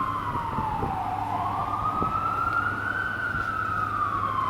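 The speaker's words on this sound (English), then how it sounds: "Is that siren too loud?" An emergency vehicle siren on a New York street near Central Park wails loud and steady, its pitch sliding slowly up and down across the whole stretch over constant traffic noise, with no talking.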